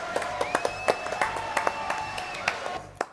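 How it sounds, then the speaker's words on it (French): Studio audience of a French TV show applauding; a sparse run of individual hand claps at a steady, moderate level, with a tonal whistle-like sound running through, fading out near the end. "Applaudissements, s'il vous plaît, merci."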